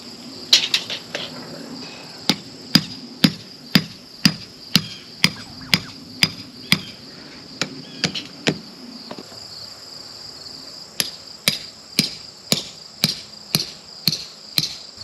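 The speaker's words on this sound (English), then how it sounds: "Swing that hammer." Steady hammer strikes ring out one after another in a regular rhythm while laying out a tiny home foundation, with a brief pause midway, over quiet outdoor background with insects chirping.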